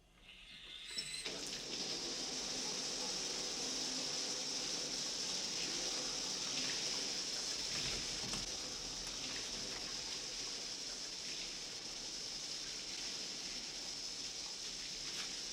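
A shower runs indoors with a steady, even spray of water hissing close by. It begins abruptly and continues unbroken, with no talking over it.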